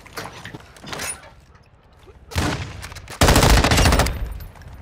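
Video game weapon fire in rapid automatic bursts, one short volley near the middle and a louder, sustained stream of shots toward the end, with quieter game noise and faint voices between.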